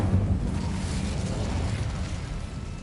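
A burst of the Incendio fire spell in the video game Hogwarts Legacy, a broad whooshing, roaring flame with a heavy low onset that holds steady for a few seconds.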